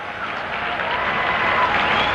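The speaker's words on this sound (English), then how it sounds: "And the fans begin the staccato clapping." Baseball fans at RFK Stadium during the Senators' final game against the Yankees in 1971 keep up a steady wash of crowd clapping, heard at a distance through a radio broadcast.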